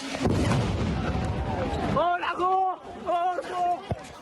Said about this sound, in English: was shattered by the thud of an Israeli airstrike